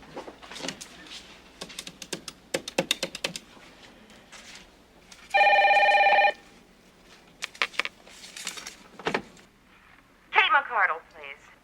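A telephone being dialed indoors: a sharp one-second electronic dial tone burst, surrounded by clicks and clatter of handling the phone, with a short warbling electronic signal near the end and people talking.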